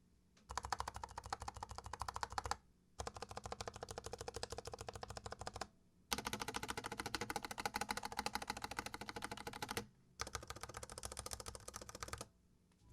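Fast, continuous typing on a stock NuPhy Air 60 low-profile mechanical keyboard with brown switches, dense solid clacks in several long bursts with brief pauses between, close up and no voices.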